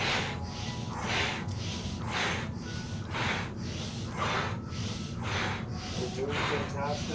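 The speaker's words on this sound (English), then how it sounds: "Sync your body movements with the breathing." Rapid, deep breaths from a breath work exercise come in a steady rhythm of forceful inhales and exhales, roughly one cycle per second, heard close and loud over a constant background hiss.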